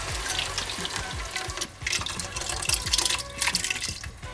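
Water pours from a container into a pot of marinara sauce on the stove, making a splashing, gurgling stream with irregular drips and sloshes, close and fairly loud.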